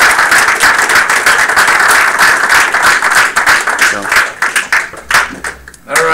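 Audience applause at a veterans' club meeting, loud dense clapping that holds steady and thins out toward the end, with voices mixed in.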